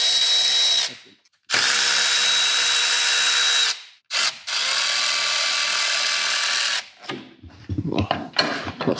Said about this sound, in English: Next, we gotta get that big old axle nut off of there. Hugga-duggas comes right off.